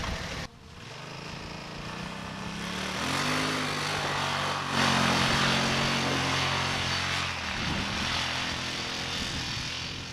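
A Yamaha Wolverine side-by-side climbs a hill, its engine droning steadily and loudly throughout, with a strain that rises and shifts pitch partway through the climb.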